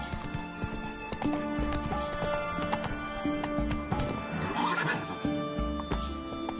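Roach, the horse in the video game Witcher 3, neighs while her hooves clip-clop in a steady galloping rhythm, loud and close over continuous game music.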